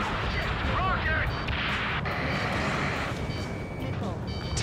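Rockets fire amid heavy combat in the Ace Combat 7 flight game, with booming blasts and whooshing launches over continuous engine roar while a voice speaks.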